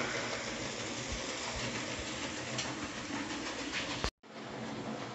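A Hornby Smokey Joe model steam locomotive runs on a track at close range with a coach attached, giving a steady faint whirring and rattling that cuts out briefly near the end before resuming.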